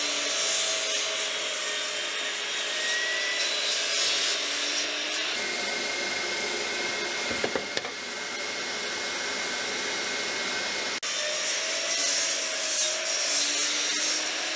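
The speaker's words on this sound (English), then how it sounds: "I'm going to cut my first side out of this side of the board and my second side out of this side of the board" A cherry wood board being cut by hand, steady rasping saw strokes running continuously and fairly loud, with brief pauses and shifts partway through and no voices.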